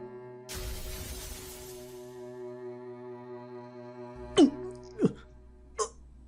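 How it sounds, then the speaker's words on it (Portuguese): In an audio drama, glass shatters into countless fragments as a sudden bright crash that fades over a sustained musical drone, followed by three sharp, chiming glassy hits spaced about a second apart. "a Sati também desapareceu, virando incontáveis fragmentos de vidro"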